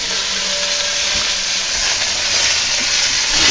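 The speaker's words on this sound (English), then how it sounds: "I love that sizzle." Beef for a ragu sizzles in a hot pot on the stove, a loud continuous frying hiss that holds steady throughout with no talk over it.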